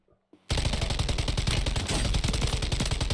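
Sustained rapid automatic gunfire in Call of Duty Warzone starts abruptly after a short quiet moment and rattles loud and close without pause.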